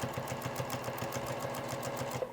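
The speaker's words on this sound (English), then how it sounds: "I'm going to sew up to that point." Sewing machine stitching binding onto a quilt, a steady close-up rapid needle rhythm with an even mechanical hum running throughout.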